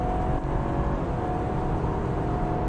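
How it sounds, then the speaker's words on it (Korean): A BMW 320i M Sport (G20) in sport mode drives at highway speed with a steady engine hum, road and wind noise filling the cabin at a constant level, with no talking. "자, 엔진 소리 한번 들어보세요."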